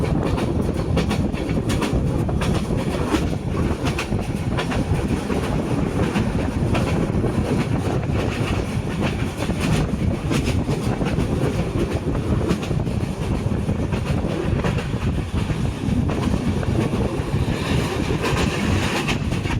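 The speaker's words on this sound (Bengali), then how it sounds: "আমরা অলরেডি চট্টগ্রাম রেল স্টেশনে" A passenger train rumbles steadily into Chattogram railway station, its wheels clattering continuously over the rails, loud and close throughout with no speech.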